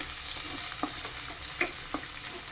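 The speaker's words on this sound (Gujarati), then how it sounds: "તો તેમાં ડુંગળી અને લીલું મરચું એડ કરીએ. ધીમે ધીમે હલાવતા જઈએ." Onion and green chilli frying in oil for upma, stirred slowly over a low flame: a soft steady sizzle with occasional light spoon taps against the pan, fairly quiet, no voices.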